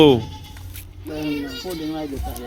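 A goat at a goat market in Sedha Singh Wala bleats close to the microphone in short wavering calls, overlapped by a voice nearby.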